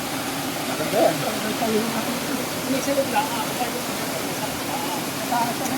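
Steady rushing river waterfall flows continuously nearby, a dense broad hiss with faint voices murmuring underneath.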